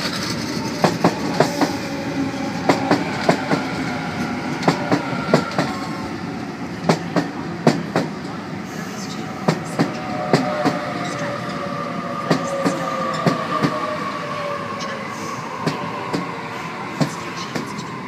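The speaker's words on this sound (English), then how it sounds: "Waratah approaching platform number 1, Central service stopping all stations to Epping" A Sydney Trains Waratah set pulls into the platform at Pennant Hills, loud and close, with rhythmic clickety-clack over rail joints, a rumbling body and a faint rising whine as it slows.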